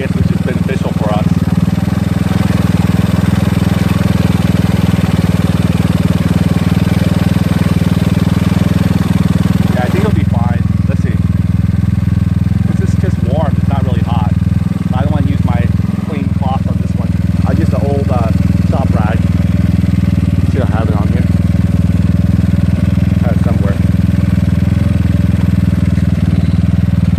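A GY6 scooter engine fitted with an OKO PWK 30mm carburetor idles steadily and loudly throughout, a constant low drone with faint mechanical clatter, while a fan blows and people talk over it in the second half.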